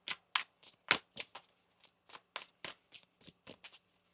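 Tarot cards being shuffled in a series of about fourteen crisp riffling bursts, each short and evenly spaced, close and fairly quiet with no talking.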